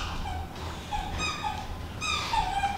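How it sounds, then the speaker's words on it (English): A puppy yips and whimpers in short high-pitched bursts, a few separate cries at moderate distance in an indoor room, with no talking over them. "He's been barking for the last 5 minutes."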